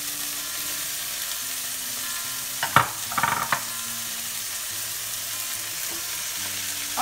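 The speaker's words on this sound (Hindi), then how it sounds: "अब इसे हमने सॉटे कर लिया है, अब हम अपने वेजिटेबल्स डाल देंगे।" Vegetables sautéed with spring onion in a pan for Hakka noodles, a steady background sizzle with a short burst of clattering and scraping as the utensil stirs, then quieter frying with faint taps.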